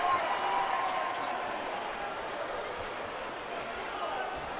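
Steady crowd roar fills a busy indoor soccer arena during a professional match, a dense broad wash of cheering and voices holding at a constant loud level throughout.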